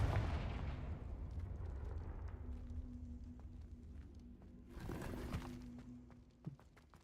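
A Confringo explosion spell goes off in a Harry Potter video game as one brief, muffled blast burst over a low, steady background hum, fairly faint overall.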